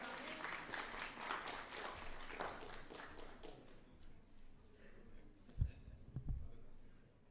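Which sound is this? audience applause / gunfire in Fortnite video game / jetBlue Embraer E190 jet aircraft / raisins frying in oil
audience applause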